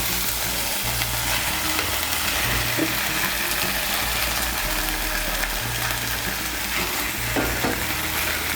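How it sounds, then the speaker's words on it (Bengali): Pumpkin pieces fry in spice paste for chal kumra jhal while being stirred, a dense continuous sizzle with rough scraping and low clattering, loud and close throughout, no talking. "কুমড়োগুলোকে মিশিয়ে নেব মশলার সঙ্গে।"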